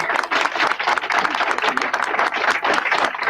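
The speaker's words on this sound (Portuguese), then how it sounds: "e palmas para o Fausto." Studio audience applause on a Brazilian talk show, lively clapping at close range that stays strong and steady from start to finish, with a murmur of voices mixed in.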